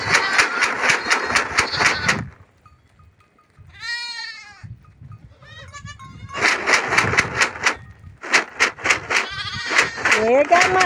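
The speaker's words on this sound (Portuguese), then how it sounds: "E aí sacode, aí as cabras vêm." Goats on a rural smallholding bleat loudly and repeatedly nearby as they come toward corn being shaken in a bottle, with rattling bursts, a pause of quieter background and more bleats at the end.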